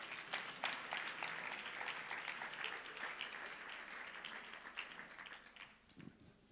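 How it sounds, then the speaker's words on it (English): A church congregation applauds the worship team, steady dense clapping filling the room and tapering off near the end. "Thank you, worship team. Thank you. Let's clap for them."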